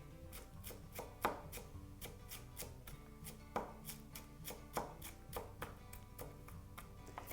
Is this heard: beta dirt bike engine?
no